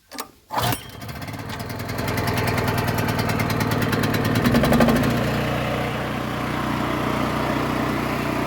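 A small Harbor Freight gasoline engine catches on a single pull with a loud burst, then settles into a steady, close, rattling idle that carries on alone without any talk.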